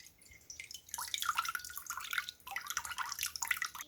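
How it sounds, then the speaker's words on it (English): Milk kefir drips through a strainer in faint, irregular bursts of close trickling and droplets, rising and easing in two short waves, with no voices. "Can you hear it dripping?"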